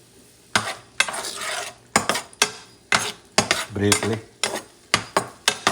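Green onion bottoms sautéing in a pan for Korean galbi, with a run of sharp utensil clatters and scrapes against the pan in an uneven rhythm over a light sizzle, close and fairly loud.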